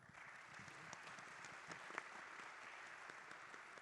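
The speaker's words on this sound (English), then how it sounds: "A round of applause for our panel." An audience at a technology and entrepreneurship conference applauds a panel, a steady, faint spread of clapping from a room heard from a distance, with no talk.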